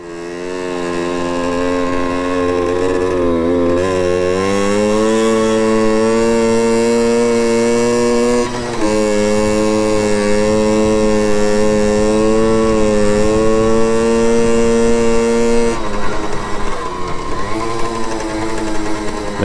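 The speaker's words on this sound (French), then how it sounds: "Et déjà au moins elle roule" Motorcycle engine running steadily after a carburetor cleaning, without an air filter, during a road test: loud, continuous buzzing drone with pitch rising and falling as the throttle changes, close to the recorder.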